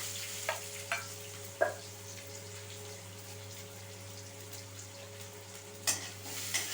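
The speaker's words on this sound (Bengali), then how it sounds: "পেঁয়াজটা খুব ভালো করে ভেজে নেব।" Onions fry in a pan for spicy ghugni, a soft, steady sizzle with a few sharp stirring knocks and scrapes, fairly quiet and with no one talking.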